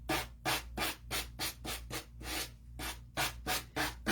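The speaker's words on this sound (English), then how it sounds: "This is my homemade sander" Rhythmic back-and-forth rasping of a nail file used as a homemade sander, about a dozen close strokes with brief pauses, steady and moderately loud.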